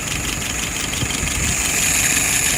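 A car engine idles steadily right after being fired up, a loud, close, continuous low rumble with an even mechanical hum throughout.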